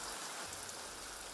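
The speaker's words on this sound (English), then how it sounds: "it's raining again. But it's only a passing shower" A light passing rain shower falls over open country beside a river, a brief, even hiss of drops on surfaces with no other sounds.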